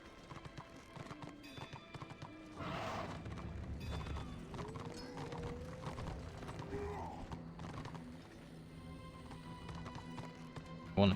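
A horse clip-clops and whinnies in Warhammer Online during a battle scenario, with hooves thudding steadily and creaking mechanisms, a neigh rising midway, all moderately loud over the game's background sound.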